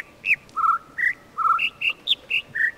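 Bird chirps from a jungle video game puzzle, about nine short whistled tweets in an uneven rhythm alternating between a lower and a higher pitch, clear and close over a faint background.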